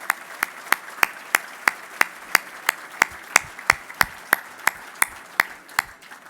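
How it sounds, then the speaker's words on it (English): Slow, evenly spaced claps at a village State of the Village event, greeting the Chamber Board; sharp, distinct hand claps at a steady beat of about three per second, sounding like one or a few people rather than a full crowd. "Please join me in giving a round of applause to our Chamber Board."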